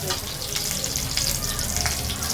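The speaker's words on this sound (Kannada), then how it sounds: "ಕರ್ಬೇವು ಹಾಕ್ತಾ ಇದ್ದೀವಿ" Curry leaves crackle and sizzle in hot oil in a pan while dhal kichadi is being made, a loud, dense, continuous frying hiss with sharp pops, close up and without talk.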